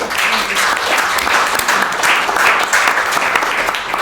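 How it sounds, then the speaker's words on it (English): An audience at a film screening and panel discussion applauds loudly, a close, dense burst of clapping that stays strong and steady across the whole stretch. "Can we give them all a round of applause?"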